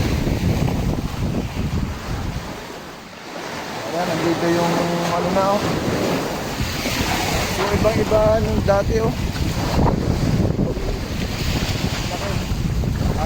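Heavy surf and big waves wash and churn along a shore beside a damaged nipa hut cottage, a steady roar under wind buffeting the microphone, with someone talking over it.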